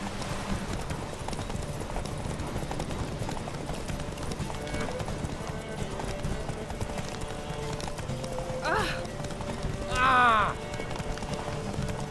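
Roach, a horse in The Witcher 3 video game, galloping with rapid rhythmic clip-clop of hooves throughout, joined near the end by a couple of short whinnies, with a voice speaking over it.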